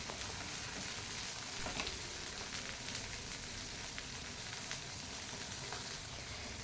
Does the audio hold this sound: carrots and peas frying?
yes